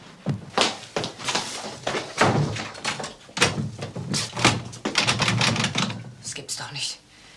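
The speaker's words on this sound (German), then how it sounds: "Christiane, mach sofort die Tür auf" A door thuds shut and rattles several times among loud, overlapping voices arguing in German, with sharp knocks and bangs scattered throughout.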